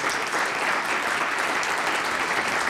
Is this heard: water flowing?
no